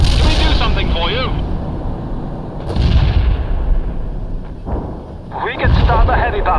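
Incoming artillery fire in the World in Conflict: Soviet Assault video game, with heavy rumbling blasts and thuds rolling through the battle while radio voices talk over the barrage.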